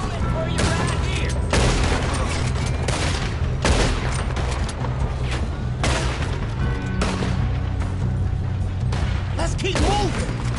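Gunfire during a train robbery in Red Dead Redemption 2, rapid loud shots cracking in irregular clusters over a steady low train rumble, close up, with voices shouting in the mix.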